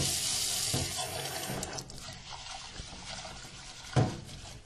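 Short grain rice being washed by hand in a heavy pot, water splashing, trickling and sloshing close by with irregular swishes and a sharper splash near the end.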